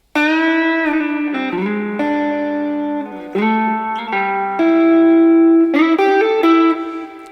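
Electric guitar with effects plays a riff of rapid sixteenth-note runs, first with a swung lilt, then evened out straight; sustained, close, and continuous with no voices.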